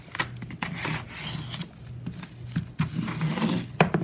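Printer paper being pressed and rubbed along a fold with a creaser tool during origami, close, quiet scraping strokes repeated in an uneven rhythm.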